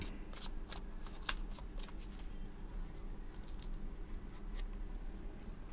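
Tarot cards being cut and shuffled at close range, a soft continuous riffling patter with sharper card snaps scattered through it and one distinct slap, no talking.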